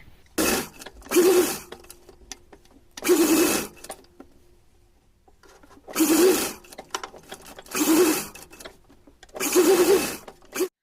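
A sewing machine stitches a cotton dress for a Laddu Gopal outfit, running in five loud, steady bursts of rapid mechanical whirring separated by short quiet pauses.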